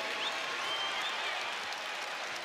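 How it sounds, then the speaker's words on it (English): A large crowd at Williams Arena applauds and cheers during a Minnesota versus North Dakota State men's basketball exhibition game, a dense, steady wash of clapping that holds at an even level throughout. "A strong Williams Arena crowd for an exhibition game, letting them hear it."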